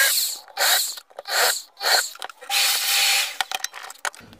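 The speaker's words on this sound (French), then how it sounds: "avec une mèche de 8, je vais agrandir le trou" A drill with an 8 mm bit enlarges holes in a cigar box for a resonator ukulele, producing several loud close bursts of whirring and grinding separated by short pauses, then brief clicks.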